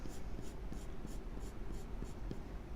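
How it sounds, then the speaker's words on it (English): A 2H graphite pencil pressed hard on paper makes close, quiet scratching strokes in a steady repeating rhythm, with no voices. "2H pencil at this point."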